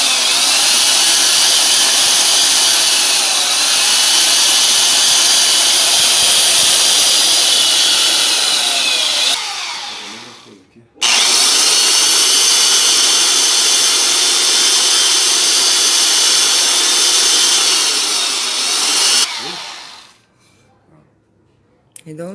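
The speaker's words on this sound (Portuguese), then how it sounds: "Isso aqui é uma lixadeira de cinta." A belt sander grinds steadily against a freijó wood phone case, a loud continuous high whine in two long passes with a brief pause between and a drop to near quiet at the end.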